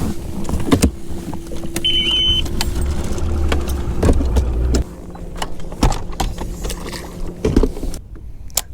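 An idling boat motor rumbles low and steady near the listener, with knocks and clunks on the hull, and the engine note drops partway through.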